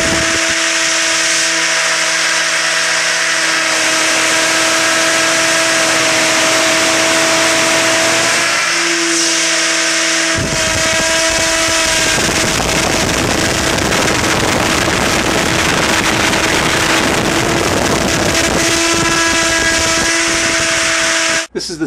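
A T-Rex 600 RC helicopter tail rotor runs on a test rig with a force gauge, giving a loud, steady high-pitched whine with strong tonal hum that shifts and intensifies partway through, continuous with no talk.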